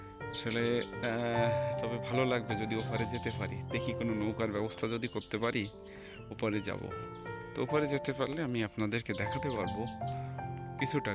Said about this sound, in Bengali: আমি এখানে কিছু অজানা পাখির কিচির মিচির ডাক শুনছি।